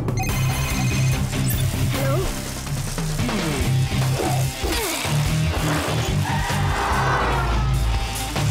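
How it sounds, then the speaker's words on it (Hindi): A telephone rings in an action cartoon, its repeated bell tones mixed with busy music and sound effects throughout. "मैं शिवा को फोन लगाता हूँ"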